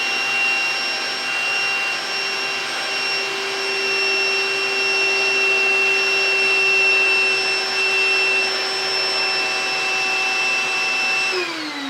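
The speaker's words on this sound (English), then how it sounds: "Now I'm gonna go ahead and vacuum it out before I turn it upside down in my bucket" A vacuum cleaner sucking dust out of a hole saw runs as a loud, steady whine with a constant pitch for the full stretch, dropping slightly at the very end as it shuts off.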